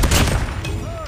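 Gunfire in the Call of Duty Mobile shooter game, a dense, loud burst of rapid shots filling a short moment, with game sounds layered underneath.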